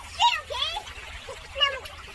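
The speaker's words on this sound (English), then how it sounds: "So right now we're here in the river." Children playing and splashing in a river, with light water splashes under bright, high children's voices calling out in short bursts.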